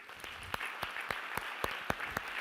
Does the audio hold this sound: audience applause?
yes